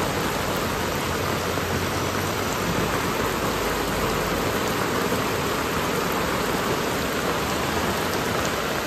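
Heavy monsoon rain pours down steadily on a village road where water is pooling, a dense, loud, unbroken roar of drops with no voices.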